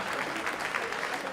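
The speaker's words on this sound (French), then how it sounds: "on peut applaudir très fort Pierre-Franck, le gitan Winterstein" A boxing event crowd bursts into steady applause, a dense, close clatter of clapping filling the hall, with an announcer's voice over it.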